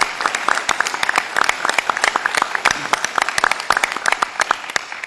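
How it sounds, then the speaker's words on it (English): A town-hall audience at a community reconstruction meeting breaks into a steady round of applause, many hands clapping densely and fairly close, filling the room with no talk over it. "Let's give him a round of applause, Jamie Rubin."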